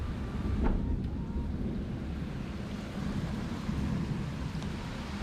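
Steady rain falls outside a garage during hand tinting of a 2022 Kia K5, a constant broadband wash with low rumbling, continuous and fairly loud throughout.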